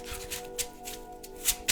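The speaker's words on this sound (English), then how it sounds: "I shuffled these cards several times and they never popped out like that" A deck of thin, slippery tarot cards being shuffled up close, with quick riffling bursts and soft flicks, brief and crisp.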